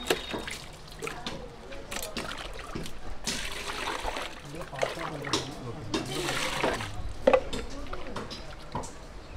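Hot water runs and splashes in irregular trickles and spatters while boti, goat or sheep offal, is washed and cleaned, with people talking in the background over the wet sloshing.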